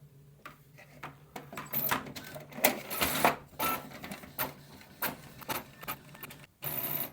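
A Brother MFC-J1410DW inkjet printer prints a page, with whirring feed motors, clicking and repeated shuttling bursts of the print head, close and moderately loud, with a final sharp mechanical pass at the end.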